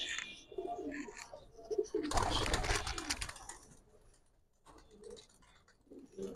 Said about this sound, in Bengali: পাখের আওয়াজ কি দিচ্ছে?